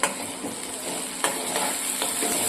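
Onions, garlic and tomatoes sautéing in a pan for a Gujarati moong curry, a continuous close sizzle with stirring scrapes and a couple of utensil knocks, no talk.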